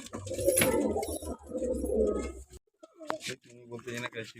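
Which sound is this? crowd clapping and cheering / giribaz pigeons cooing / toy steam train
giribaz pigeons cooing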